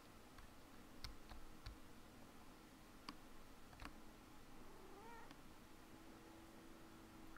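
A Minecraft cat gives a few short meows, scattered between soft clicks and ticks against a quiet game background, with no talking.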